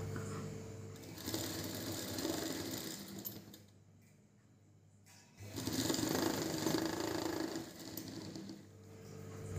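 An electric sewing machine stitches a straight half-inch seam on a blouse, running in two steady loud bursts with a short quieter pause between them, and no one talking.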